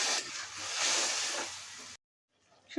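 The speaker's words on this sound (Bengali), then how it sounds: "দিয়ে দেবো সামান্য একটু পানি শুটকিটা কষানোর জন্য।" Dried fish frying in a pan gives a loud, broad hiss as a little water goes in with green chilies, holding steady for about two seconds and then cutting off abruptly into near silence.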